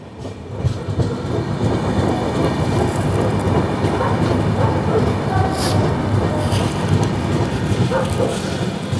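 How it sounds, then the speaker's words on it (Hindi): Gatiman Express passing at speed through Morena station, heard from another train, a loud continuous rumble and rattle of wheels and carriages with steady clatter throughout. "यहाँ पे हमारे ट्रेन की क्रॉसिंग होने वाली है गतिमान एक्सप्रेस के साथ"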